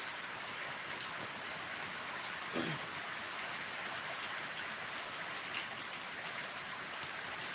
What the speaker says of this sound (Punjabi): ਆ ਦੇਖੋ ਇਧਰ ਮੀਂਹ ਕਿੰਨਾ ਲੱਗਾ ਸਾਡੇ ਨਾਲ